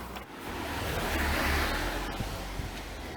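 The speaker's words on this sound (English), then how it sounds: "What you're hearing is the sound of cars driving through rain." Cars hiss past on wet Seattle streets in the rain, a steady broad swish of tires on water swelling as a vehicle passes nearby, with no voices.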